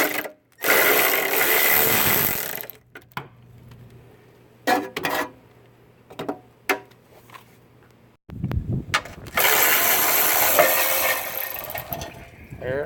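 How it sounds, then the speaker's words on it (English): Hand tools at work while 10mm bolts are broken loose on a Jeep Cherokee XJ: bursts of loud rough mechanical whirring bracket a quieter stretch of short clicks, knocks and a faint hum. "These are 10mm bolts. Go ahead and break them loose."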